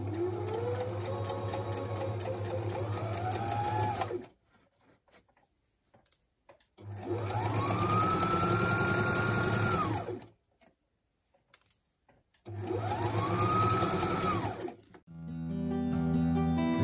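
A sewing machine stitches a fabric drawstring bag with a 3mm stitch, three loud sustained runs with a rising whine at each start, separated by quiet pauses and a short final burst.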